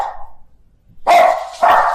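Two loud dog barks close by after a doorbell ring, the second following shortly after the first, preceded by a faint brief whine and near silence.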